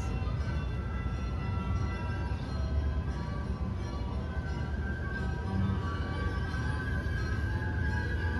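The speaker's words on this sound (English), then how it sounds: "The train's coming around?" A train rolls past on tracks right beside the Kemah Boardwalk in Texas, a loud continuous low rumble with steady wheel noise and a few faint ringing tones throughout, with no talking.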